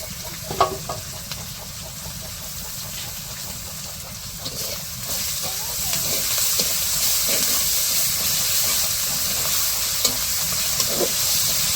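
Onions fry gently with ginger, garlic and cumin paste in a home kitchen, a soft continuous sizzle with stirring scrapes that swells louder partway through and carries on without any speech.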